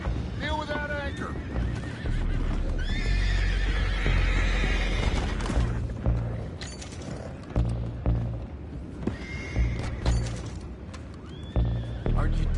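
Horses whinny and neigh loudly in Red Dead Redemption II, with repeated high calls and clip-clopping hooves, mixed with game character voices talking over the action.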